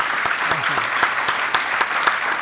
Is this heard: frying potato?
no